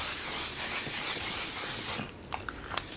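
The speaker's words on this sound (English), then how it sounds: "Finish it up with From Dusk Till Dawn setting spray." From Dusk Till Dawn setting spray hisses onto a face in a steady mist lasting about two seconds, close and clear, followed by a few faint small clicks.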